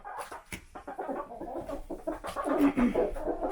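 Homestead farm chickens clucking close by in a busy, uneven run of short calls during feeding, continuous across the moment without any talk.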